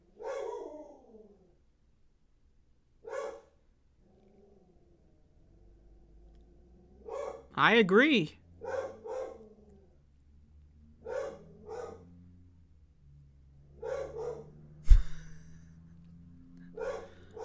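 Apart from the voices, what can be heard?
dog barking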